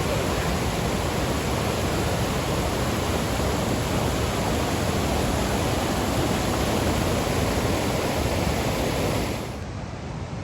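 Steady, loud rushing water roaring continuously from a waterfall at Lake Tahoe, dense and unbroken, dropping slightly in level right at the end.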